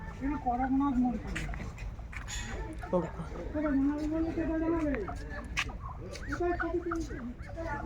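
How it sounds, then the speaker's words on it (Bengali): Geese honk and gabble repeatedly near a flower garden at an ashram in Bandel, heard under steady conversation from nearby visitors. "আর দেখো এখানে অনেক রাজহাঁস রয়েছে আর চারপাশে ফুলে ফুলে ভরা"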